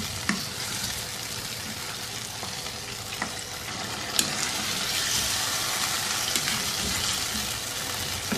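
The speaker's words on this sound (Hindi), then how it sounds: "अब जो चिकन फ्राई किया था वो फिर से इसमें शामिल कर दें।" Fried chicken is returned to an Afghan-style karahi of tomato and yogurt liquid and sizzles steadily up close, with stirring scrapes and a few sharp clinks over the continuous frying hiss. No one speaks.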